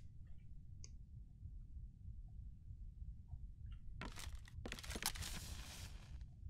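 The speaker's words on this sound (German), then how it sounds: "Oh, das hört sich aber nach einem gemütlichen Kaminfeuerchen an." Crackling fireplace fire in the video game Layers of Fear, faint sparse clicks and pops over a low rumble, then a denser burst of crackling and crunching near the end.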